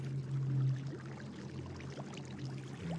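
Flowing water runs in the video game Minecraft, a steady low gurgling stream with a brief louder surge near the start, then a continuous quieter trickle.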